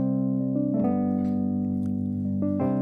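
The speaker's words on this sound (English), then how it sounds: "I'll use more of a mellow sound, kind of like a Rhodes or a light keyboard or a Wurlitzer." A mellow Rhodes-style electric piano plays soft sustained chords, warm and steady, with a couple of gentle chord changes and no voices.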